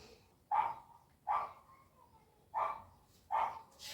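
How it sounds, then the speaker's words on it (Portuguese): A dog barks four times at a moderate distance, evenly spaced single woofs about a second apart, each ending in a brief whimpering tail, against a quiet background. "Cachorro latindo"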